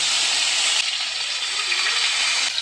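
Rui fish pieces dropped into hot oil set off a loud, steady sizzle and hiss that holds close and strong throughout without a break.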